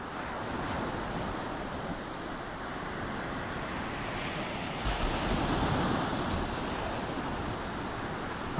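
Sea waves breaking on the East Coast beach at Kilnsea during afternoon sea fishing, heard as a continuous broad wash of surf mixed with wind, briefly swelling louder midway through.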